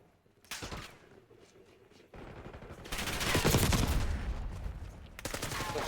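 Gunfire in Call of Duty Modern Warfare III, with scattered shots early, then a heavy, sustained burst of rapid fire and explosions filling the second half, loud and dense.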